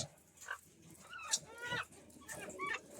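Several white laying hens cluck and squawk in a series of short, loud, uneven bursts close at hand, with no talk over them.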